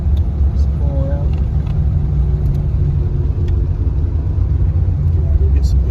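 A 1957 Chevy Bel Air's engine rumbles low and steady as the car pulls around, a close, continuous motor drone with a brief voice heard over it.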